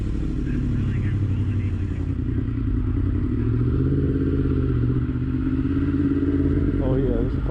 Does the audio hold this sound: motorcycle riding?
yes